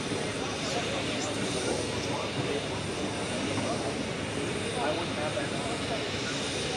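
An aircraft taxiing at the Paris Air Show: a steady, broad engine roar that holds constant throughout, fairly loud and unbroken, with no clear words over it.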